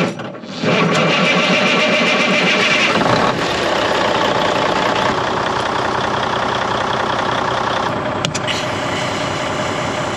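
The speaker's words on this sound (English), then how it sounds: "Crank it up and let it build up air, and then we'll try to jump it." A truck engine cranks over and settles into a steady, rough idle while it builds air pressure, the running sound continuous and close.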